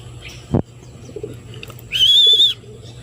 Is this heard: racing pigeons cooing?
yes